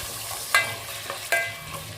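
Garlic and ginger paste is stirred into mutton in a hot pan, with a steady sizzle under two distinct scraping strokes of the spoon.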